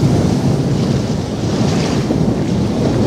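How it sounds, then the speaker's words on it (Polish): Strong wind buffets the microphone while choppy lake water churns and slaps nearby, a continuous loud rushing roar with no voices. "Przy takim wietrze woda się tu kotłuje strasznie."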